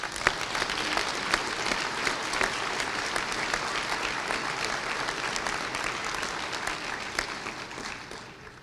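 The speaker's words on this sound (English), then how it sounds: "How about a round of applause for the faculty, without whom none of this would have been possible?" Sustained applause from a convocation audience honoring the faculty at a college of pharmacy ceremony, dense steady clapping that fills the hall and fades slightly at the end.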